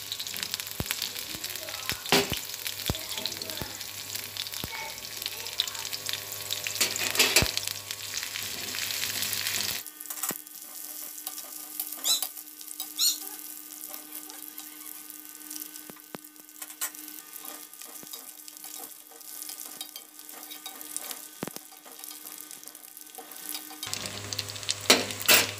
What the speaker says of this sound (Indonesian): kita goreng ikan terinya dulu sampai kering ya